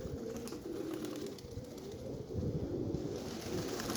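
Pigeons coo softly and steadily outdoors in gusty wind of 15–25 m/s, their low murmuring calls continuous and fairly distant, with no talking.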